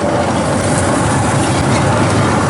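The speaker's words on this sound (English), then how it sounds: "The train's leaving and coming back." At Cedar Point, the Magnum roller coaster train pulls out of the station with a loud, continuous rumbling roar of wheels on track, steady and unbroken throughout.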